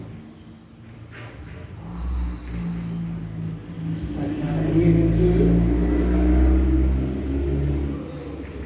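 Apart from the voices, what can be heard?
cars revving in the street outside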